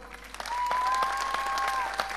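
Applause at a political convention, greeting a guest named Goran Tuponja: a crowd claps steadily and fairly loudly for a couple of seconds, with dense overlapping claps and no break.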